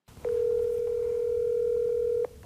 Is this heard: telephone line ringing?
yes